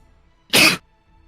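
A single sharp sneeze bursts out close by, brief and loud, with quiet before and after.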